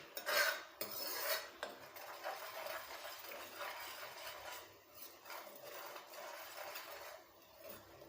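Herbal hair paste stirred by hand in a vessel, a continuous soft scraping and rubbing with a louder scrape at the start, steady and close.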